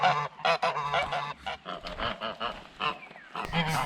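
Canada geese honk in a quick, overlapping series of loud, nasal calls close by, several birds calling at once in short bursts with brief gaps, on a walk through woods near a small town.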